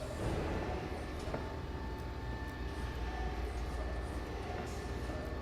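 A train car rolls along in Batman: The Telltale Series, giving a steady, dense rumble with faint clanks and no talking over it.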